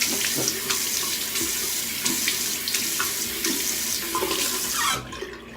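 Running tap water splashing into a sink while skincare product is rinsed off, a continuous close hiss and patter with small splashy variations, cutting off abruptly near the end.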